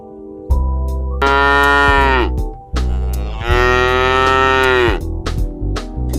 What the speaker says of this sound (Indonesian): Di kanan jalan ada ladang, yang ladang ini banyak banget sapi.